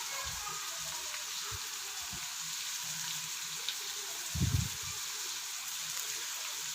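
Ground cumin and dry coriander fry in a pot with a soft, steady sizzle, broken by a few low knocks and a short scraping stir partway through.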